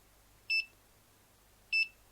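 A quadcopter flight controller running Betaflight gives two short, clean electronic beeps about a second apart over a faint, quiet background.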